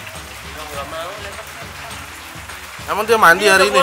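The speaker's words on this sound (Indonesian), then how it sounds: "Hujan nih" Rain falling outdoors as a steady soft patter throughout, with people talking over it near the end.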